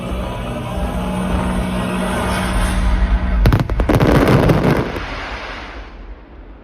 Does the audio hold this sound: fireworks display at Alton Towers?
yes